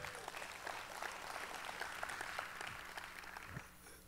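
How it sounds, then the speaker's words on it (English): At a SXSW keynote, a large audience breaks into steady applause, a dense patter of many hands heard from a distance at low level, continuing evenly for about four seconds. "yeah, he deserves some applause"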